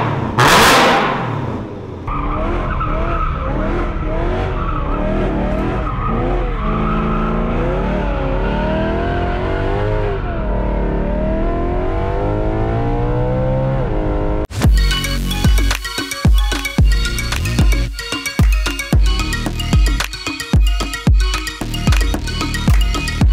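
A BMW E90 M3 with a Valvetronic VX exhaust pipe idles and revs loudly up and down, then breaks into sharp, rapid popping and crackling bursts, close and raw with no voices.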